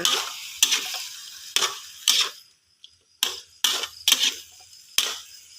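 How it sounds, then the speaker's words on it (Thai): Onion, bell pepper and carrot are stir-fried in a pan, with about nine separate scraping, sizzling strokes in an uneven rhythm. Each stroke is close and distinct, with short quiet gaps between them and no voices. "แล้วก็ผัดทุกอย่างให้เข้ากัน"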